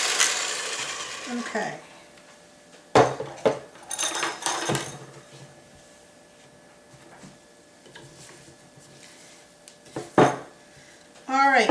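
Butter and sugars being mixed until creamy for chocolate chip cookies, with intermittent clinks and scraping of utensil against bowl in short bursts, close by, and a brief spoken word in between.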